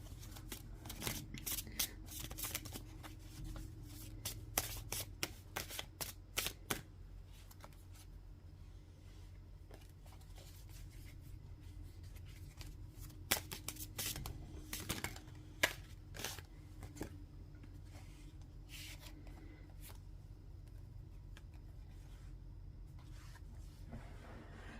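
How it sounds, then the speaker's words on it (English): Tarot card decks are shuffled by hand, giving soft, close riffling and flicking bursts that come in irregular clusters, quiet overall with pauses between. "Bear with me as I shuffle these decks."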